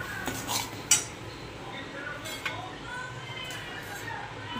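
Spoon scraping and clinking in a pan while salt, turmeric and ground dal are mixed for a spicy Marathi soybean bhaji, faint and intermittent, with a couple of sharper metal clinks.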